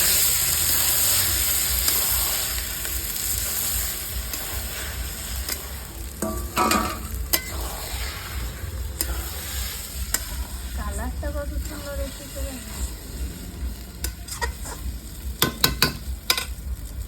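Shredded cabbage sizzles steadily in hot oil in a pan for a vegetarian dish, with a utensil stirring and scraping it in bursts that grow busier toward the end.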